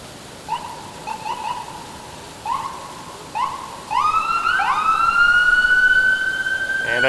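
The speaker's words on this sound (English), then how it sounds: "And I bet this ambulance is going to turn left here" An ambulance siren wails nearby on a downtown Toronto street, starting with short rising yelps and then holding a loud, steady tone that swells as it approaches.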